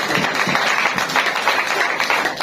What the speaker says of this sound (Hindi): जोरदार तालियां बजा सकते आप